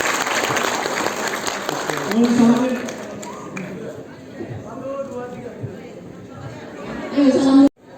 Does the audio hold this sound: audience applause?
yes